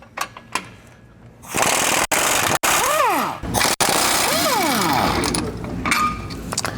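An impact wrench removes the shock bolts with a 21 mm socket on a 2020-or-newer GM 2500 truck during a 3-inch lift kit install. It sounds as loud, close, sustained rattling bursts broken by a few short pauses.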